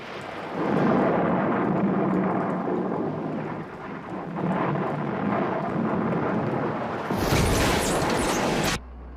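A thunderstorm with heavy rain and rolling thunder, loud and close, the rumbling swelling in waves and ending in a sharp crack that cuts off abruptly.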